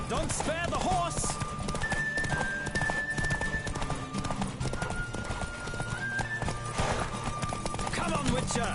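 Fast, rhythmic hoofbeats of a racing horse in The Witcher 3 on PS4 drum continuously at close range, with a snort or whinny near the start and soft music underneath.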